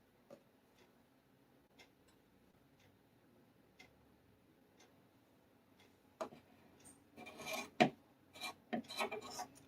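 Scissors trim fabric close to a stitching line while a bowl cozy is sewn: soft isolated snips at first, then a quick run of louder rasping cuts and rustles near the end.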